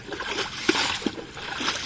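A car's tyre splashes through standing water on a road, with a couple of sharp sloshing bursts over continuous watery churning and a faint voice in the background.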